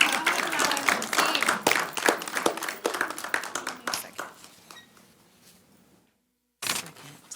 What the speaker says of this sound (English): Y'all keep clapping now